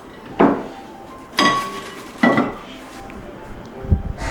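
Three sharp ceramic clunks as a heavy Japanese earthenware donabe pot made for induction cooking is set down and shifted, followed by a softer knock, with quiet room tone between.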